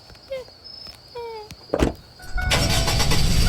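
A Ford F-150 pickup engine in the Roblox Greenville game cranks and catches, then settles into a loud, steady idle after a few short chirps and clicks.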